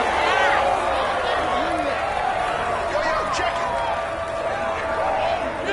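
Basketball arena crowd noise from the NBA 2K26 video game, a steady, loud roar of murmuring spectators with scattered shouts, persisting throughout under a commentator's voice and a brief spoken exclamation.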